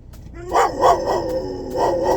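Several dogs barking outdoors in a string of five or six loud, close barks, with short gaps between them.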